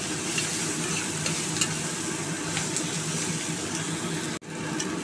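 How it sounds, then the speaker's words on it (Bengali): Chopped onion and garlic fry in oil in a home kitchen pan, cooking for a Bengali fish curry, with a steady close sizzle and a spoon scraping and stirring throughout, briefly cut off near the end. "2 মিনিট ধরে পেঁয়াজ রসুনটাকে একটু ভাজা ভাজা করলাম"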